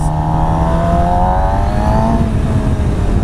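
A 2017 Suzuki GSX-R 750 motorcycle engine runs loud and close with heavy wind roar, its note slowly rising as it accelerates steadily, with no talk.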